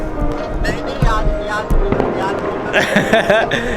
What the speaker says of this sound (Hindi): हमारे यहाँ तो दबा के फूट रहे भाई पटाखे, बम ही बम चल रहे आसमान में।